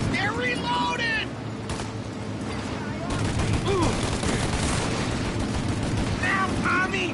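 Sustained gunfire from a shootout in the game Mafia Definitive Edition, dense bursts and booming shots layered continuously, with voices shouting through the exchange.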